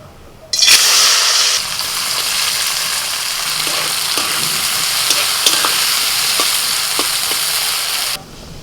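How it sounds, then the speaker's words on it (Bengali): Bitter gourd sizzles steadily in hot oil in a pan, a loud continuous broadband fry that starts abruptly and holds for several seconds, with faint scattered clicks of stirring before it cuts off. "আলু করলাটা এবার ভাজা করব"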